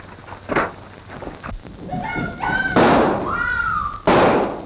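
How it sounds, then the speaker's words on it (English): Radio drama sound effect of a door being busted in for a western, a sequence of knocks and heavy thuds ending in a loud slam, mixed with some brief tonal noises, all fairly close. "Bust in the door."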